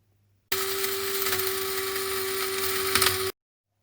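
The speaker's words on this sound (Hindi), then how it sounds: "जवतरी, जायफल, काली मिर्च, लौंग, तमाम चीज़ों को अच्छी तरह पीसते हैं।" An electric grinder whirs loud and steady, pulverising mace, nutmeg, black pepper, cloves and cardamom for mutton paya, starting abruptly, running about three seconds with a high constant whine, then cutting off.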